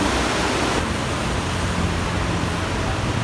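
Heavy rain pours down in a steady, dense wash of noise, close and loud throughout without a break, with no voices heard.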